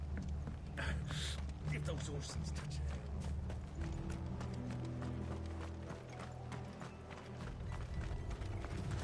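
Horse hooves clip-clopping in the Final Fantasy XVI video game, a steady quiet run of hoofbeats under game voices and ambient music, with mechanical rattles mixed in.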